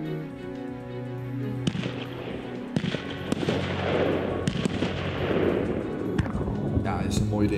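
Bangs from a fireworks cake come from a video playing in the room, a quick run of sharp cracks and crackling bursts over a sustained background tone, sounding moderately loud and slightly distant.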